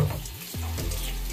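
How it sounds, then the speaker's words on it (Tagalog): Tap water runs steadily into a kitchen sink while raw pompano fish is rinsed by hand, producing a close, constant splashing rush with a brief change in the flow partway through. "Hugasan ko siya guys ng tubig."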